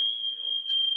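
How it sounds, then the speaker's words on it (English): A smoke alarm going off during a town board meeting, a steady piercing electronic tone held unbroken throughout, moderately loud with faint room noise beneath. "Smoke alarm going off?"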